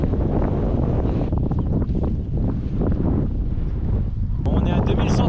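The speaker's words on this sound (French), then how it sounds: "là il y a vent de face et le froid aussi" Heavy, continuous headwind buffeting a microphone at about 1,900 metres altitude in the Caucasus, a loud low rumble that roars steadily throughout.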